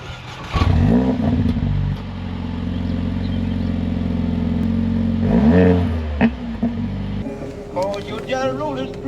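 Racing lawnmower engine cold starting, catching with a sharp rise then running at a loud, steady buzzing idle before cutting off, with someone talking over and after it.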